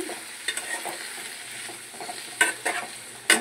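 Vegetables fry in an aluminium pan while a spatula stirs them, a steady sizzle broken by sharp scraping clatters of metal on metal, close and fairly loud, with no talk.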